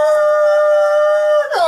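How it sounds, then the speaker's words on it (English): A dog howls in one long, steady, loud wail close by, ending with a quick falling whine, with no talking over it. "Doggy!"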